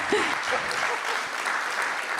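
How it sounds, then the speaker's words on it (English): Audience applause at a charity gala for Bright Stars of Bethlehem, a sustained even round of clapping with a brief voice near the start. "we can give a little round of applause"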